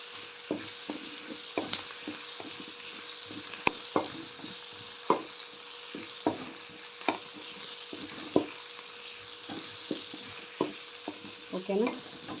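Ingredients for a spicy bottle gourd curry fry in a pan with a steady, close sizzle, while a spoon scrapes and stirs in repeated clatters throughout.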